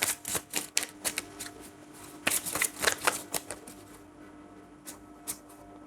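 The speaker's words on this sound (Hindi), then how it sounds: "ये वन लास्ट शफल प्लीज" A deck of tarot cards being shuffled by hand: a series of crisp riffling and flicking bursts in quick irregular succession, close and fairly loud, thinning to a few soft slaps near the end, with no talking.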